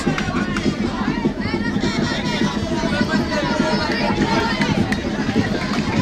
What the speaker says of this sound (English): you could hear those claps coming from the supporters of Kutajombulu Football Club